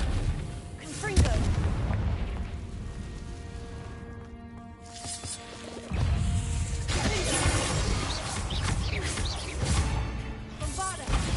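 The Confringo blasting spell goes off in a Harry Potter video game, first as a booming, crackling burst and then as a second heavy blast with rumbling debris, under a speaking voice.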